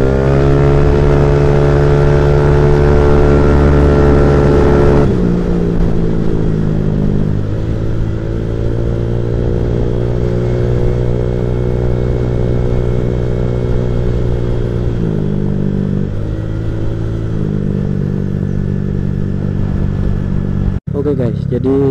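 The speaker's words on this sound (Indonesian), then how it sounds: "Nyaman, kayak enteng banget motor gitu, kayak nggak ada beban. Padahal ini pakai roller yang 10 gram loh, tapi gila dia nggak gerung asli." Motorcycle engine fitted with 10 gram CVT rollers and a custom drilled clutch bell, running steadily while riding, with the pitch stepping down and back up through the run; a voice talks over it throughout.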